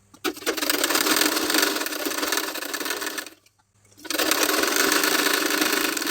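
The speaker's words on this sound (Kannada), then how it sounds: "ಅದನ್ನು ಈಗ ನೀಟಾಗಿ ತಿರುಗಿಸ್ಕೊಂಡು ಮತ್ತೆ ಮೇಲೆ ಒಂದು ಸ್ಟಿಚ್ ಮಾಡ್ಕೊಳ್ಳೋಣ." A sewing machine stitches the lining of a sleeve, a steady close whirring run that stops briefly for a moment of quiet, then starts up again at the same even speed.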